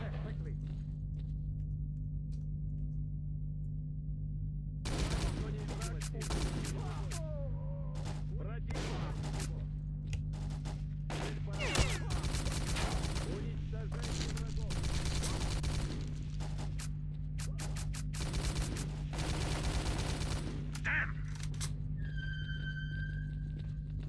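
Rapid bursts of gunfire in S.T.A.L.K.E.R.: Call of Pripyat, loud volleys and single shots over a steady low drone, with someone talking in between and an electronic beeping near the end.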